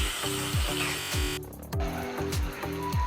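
Okra (bhindi) frying in a pan with spices, a loud, steady sizzle and spatter under a repeating, sweeping mechanical whir.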